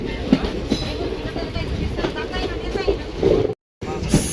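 A train rolls along a curving track, a continuous rumble with clickety-clack rhythm and faint squealing, heard from inside a carriage with some voices in the background.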